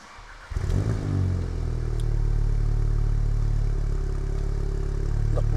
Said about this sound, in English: see what it sounds like on cold start